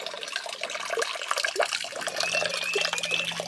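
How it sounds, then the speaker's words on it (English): Water from the faucet of a small pump-fed porch water fountain, flowing and splashing into a basin up close, a soft continuous trickle with light irregular drips and burbles. "the little pump will pump it through this hose and out through the faucet"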